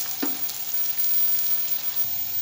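Sliced onions sizzle steadily in hot oil in a pan, a soft continuous frying hiss close by with one small clink at the start.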